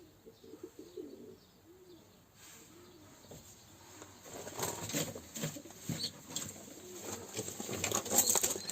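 Young pigeons in a loft: soft, low cooing in the first few seconds, then growing fluttery patter, shuffling and scratching sounds, close and fairly quiet, with no talking.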